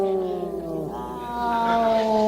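A low, drawn-out meow with strong harmonics, sliding down then rising into a longer wavering cry, sounding like a voice imitating a cat.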